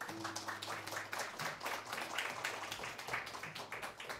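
A church congregation at a Korean morning service claps for a missionary, with fairly quiet, uneven, fast applause of many hands and a faint low hum underneath.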